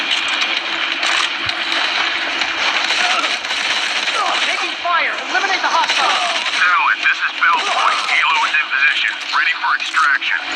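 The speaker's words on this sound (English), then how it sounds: "Taking fire! Eliminate the hostiles!" Rapid automatic gunfire from the video game Modern Combat 4 Zero Hour, dense bursts and pops running throughout under shouted in-game voices and radio chatter.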